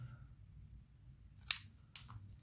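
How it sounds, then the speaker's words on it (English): Scissors snip off a ticket tag, one crisp metallic cut followed by a softer second click, faint and close in a quiet room. "I'm going to cut this off"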